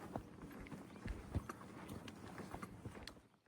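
A horse being ridden through the desert clops along at a steady walk, its hooves faint and scattered over a soft background hiss.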